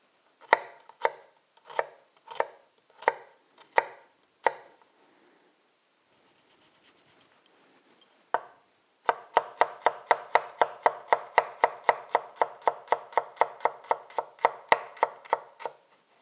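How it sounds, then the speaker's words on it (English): Knife chopping shallots and chili on a board: a run of separate sharp chops, then a pause, then a fast steady burst of rapid close-up chopping, with no talk. "Next up we have our shallots and our chili."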